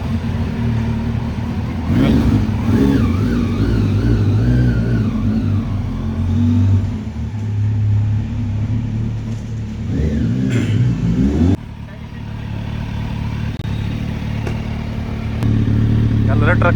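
A Kawasaki Z900 fitted with an Arrow exhaust revs loudly and close, deep rumbling idle swelling into repeated throttle blips, with people talking over it.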